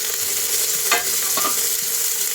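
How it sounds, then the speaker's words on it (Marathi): Finely chopped tomato sautés with ginger and garlic in a pan, giving a loud, steady, close sizzle with a couple of soft stirring sweeps. "आता हे अद्रक लसूण परतून थोडंसं झालं ना, मग छोटासा एक टोमॅटो पण बारीक चिरून घालू."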